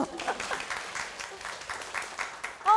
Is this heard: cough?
no